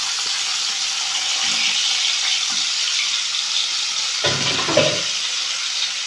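Pieces of cut raw mango dropped into a hot mustard-seed tempering, with a steady loud sizzle of frying throughout and a brief burst of spattering as the mango hits the oil.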